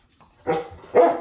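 A dog gives two short barks on command, the second louder, each separate and close with a quiet gap before the first.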